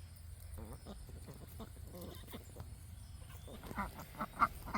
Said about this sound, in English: The ducks are up here.